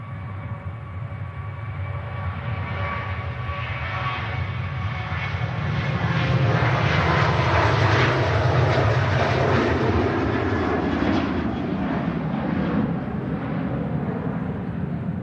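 A passenger airplane departing Manchester Airport for Copenhagen, its broad jet engine roar holding loud and steady and swelling at the midpoint as it passes, with nothing else heard over it.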